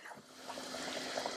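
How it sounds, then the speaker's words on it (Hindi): Water trickles and pours into a pot of mutton and mustard greens for saag gosht, a soft, close, continuous liquid stream with light splashing and no talking. "मिक्स कर लेने के बाद इसमें आप ऐड करेंगे पानी"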